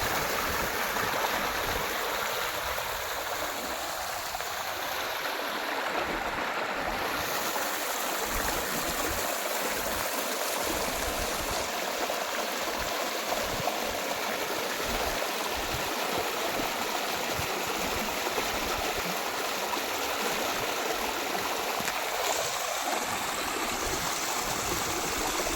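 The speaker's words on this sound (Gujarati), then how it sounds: "પાણીનો અવાજ પણ જોરદાર મસ્ત અવાજ આવી રહ્યો છે." A stream flows steadily outdoors, a constant close rushing and gurgling of water that continues evenly throughout with no voices.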